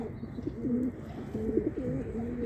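A pigeon or dove cooing in soft, repeated low phrases, close by, with faint background noise.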